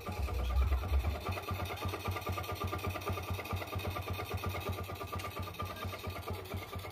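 A Yamaha Jupiter Z motorcycle engine idling with a rough, rapid knocking clatter, a steady close mechanical rattle running evenly throughout.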